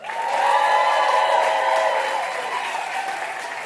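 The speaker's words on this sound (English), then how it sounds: "Please make some noise if the person you want to advance is Kenise Mobley." A comedy club crowd at a New York one-liner competition bursts into loud, sustained applause with some cheering, voting by noise for a comedian to advance; the clapping swells quickly and then slowly tapers.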